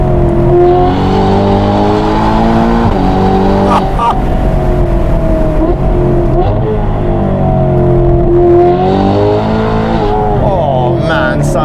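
A Novitec-tuned Ferrari Portofino M with a 688 hp engine and a loud aftermarket exhaust roars steadily from inside the moving car, its pitch climbing and falling through gear changes, heard close and at full volume with a voice talking over it.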